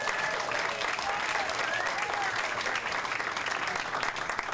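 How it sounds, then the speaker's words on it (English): An audience at the Snug Harbor Jazz Bistro in New Orleans gives sustained, dense applause after a guitar performance, a steady wash of clapping filling the whole moment. "How about another round of applause"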